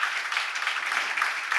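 A church congregation breaks into applause during a sermon, a dense, steady patter of many hands clapping together at close range with no pauses.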